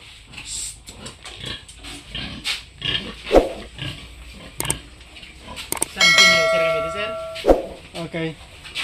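Pigs in a piggery grunt and squeal in scattered bursts at close range, with a sharp metallic clang and ringing tones partway through and a person talking in between.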